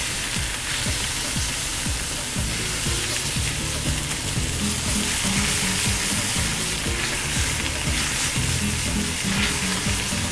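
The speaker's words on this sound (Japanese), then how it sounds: "焼き目つけるっていうより表面こうちょっと一枚膜作る感じね。" Beef fillet sears in a hot pan, giving a loud, dense sizzle that holds steady throughout, with occasional crackles and light stirring scrapes underneath.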